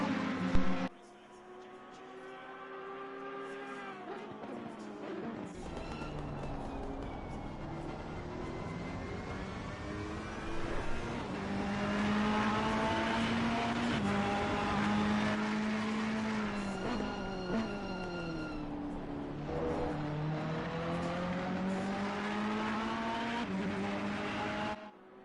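Race cars, a Ferrari and an Audi, engines howling and rising through the gears at Mount Panorama in a racing video game, a steady loud drone with shifting pitch and a few overlapping passes across the whole stretch.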